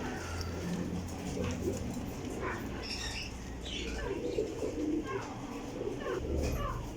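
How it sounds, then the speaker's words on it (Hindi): Pigeons coo softly and repeatedly over a steady background hum, with a few low murmuring calls close by. "बहुत नायाब कबूतर है"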